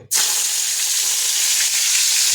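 Coriander dropped into hot oil in a pan erupts into a loud, dense sizzle that starts abruptly and holds steady and close throughout.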